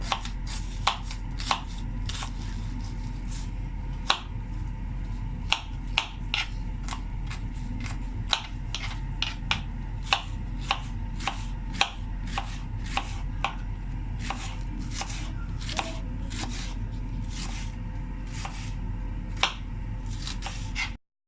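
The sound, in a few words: potatoes being chopped thinly lengthwise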